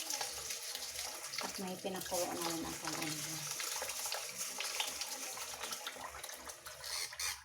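Rice being washed under a running tap for lugaw, a steady rush of water with splashing and sloshing of grains in a pot, while someone talks over it.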